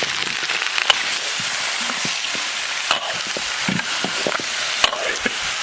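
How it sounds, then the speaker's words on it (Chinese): Beef leg meat hits hot oil and caramelized sugar in a wok, sizzling loudly and continuously with scattered crackles and the clack of stirring, close up and with no talking. "锅里倒油，炒点糖色，比糖炒起，倒入牛腿肉"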